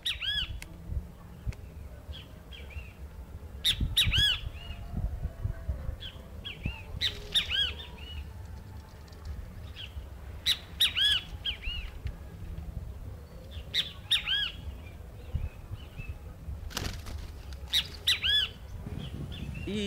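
Bem-te-vi birds, picked up by a trail camera outdoors, give repeated harsh, shrill squawks in short bursts throughout, some close and loud and others fainter, with no voices.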